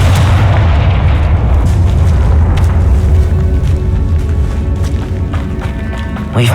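Confringo fire spell explosion in Hogwarts Legacy, a loud booming blast with a heavy rumbling low end and crackling debris that rolls on continuously and slowly fades.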